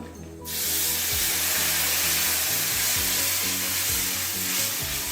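Dissolved tamarind water hits a hot pan of mochaikottai and sundakkai vatha kuzhambu, setting off a sudden loud, steady sizzle and hiss that holds close and continuous, with no voices.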